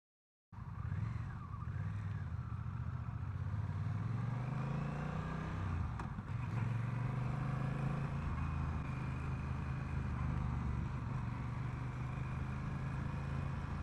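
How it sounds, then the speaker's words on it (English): A Honda Rebel 1100 motorcycle's exhaust note drones steadily from onboard as it rides and accelerates, engine pitch climbing and settling, loud and constant under wind, with no one speaking. "Bike sounds really good. I really like that exhaust note."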